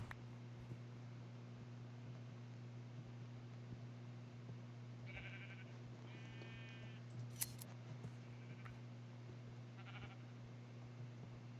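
Sheep in a video game being sheared with clay shears let out a few short, faint bleats over a steady electrical hum, with no voices present.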